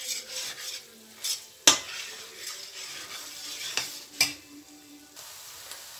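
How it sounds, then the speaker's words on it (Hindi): A spoon stirs and scrapes carrot halwa roasting in ghee in a pan, with a soft sizzle underneath and a few sharp metallic clinks against the pan. "अब थोड़ी देर मैं इसको भूनूंगी।"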